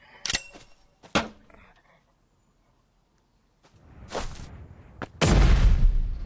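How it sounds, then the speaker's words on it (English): A flashbang grenade goes off in the Animal Company VR game: a few sharp, loud bursts, a long quiet gap, then a heavy roaring blast that fills the end of the clip. "It was just a flashbang."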